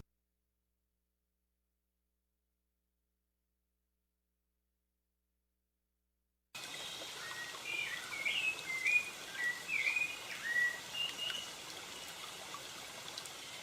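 Birds chirp and twitter in a natural setting over a soft running-water hiss, starting after several seconds of silence and continuing fairly faint, with no voices, for a radio advert.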